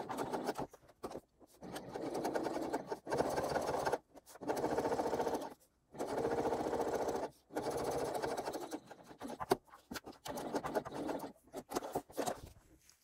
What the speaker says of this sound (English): We are going to be top stitching on the lower section the whole way